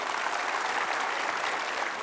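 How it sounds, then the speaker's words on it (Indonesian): Studio audience applauding at the Mata Najwa talk show's seventh-anniversary poetry episode, a dense, steady wash of clapping that fills the whole moment with no voices. "Kasih tepuk tangan dong Saud Situmorang"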